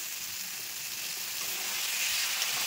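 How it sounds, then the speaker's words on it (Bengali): Chicken fries with spice masala in a pan, making a steady, close, hissing sizzle that grows slightly louder over a few seconds, with no speech. "আমার এখানে চিকেনের মশলা কষানো হয়ে গেছে, এখন আমি চিকেনটা দিয়ে দেবো।"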